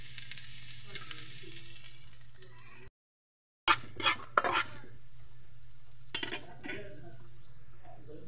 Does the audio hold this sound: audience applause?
no